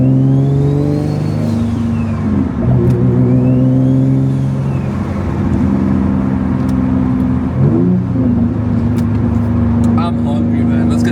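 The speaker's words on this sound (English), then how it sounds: "and the sounds the car makes" A single-turbo Nissan G35 coupe engine revs loudly and continuously, its pitch climbing and dropping in steady sweeps with sharp shifts near two and eight seconds, a voice speaking over it.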